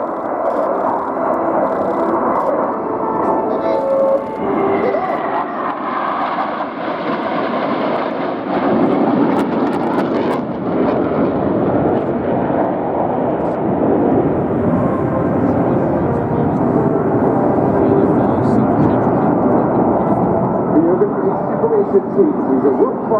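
An Albatross aircraft flies by at an air show, a broad engine roar swelling and lingering for over twenty seconds beneath a commentator's voice.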